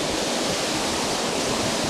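A river beside a forest trail over stacked rocks pours in a steady, full rush of water, near and unbroken, with no one talking.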